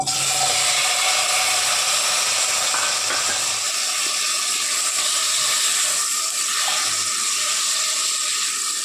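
Chicken pieces hit a hot pan for chicken hariyali and set off a loud, continuous hissing sizzle up close, its low rumble dropping away after a few seconds while the bright hiss carries on.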